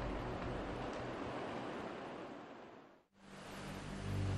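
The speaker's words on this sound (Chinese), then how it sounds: "眼前的大同器汹涌澎湃，浪潮翻滚" Turbulent water roars without a break through the Yellow River rapids at Datong Qi, where piled pebbles churn the flow; the rush is loud and steady, dips briefly, then surges back.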